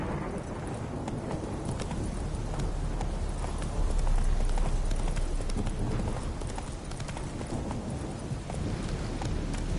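Roach the horse galloping in The Witcher 3: Wild Hunt, a steady rapid clip-clop of hooves running on and on at close range, with faint background ambience.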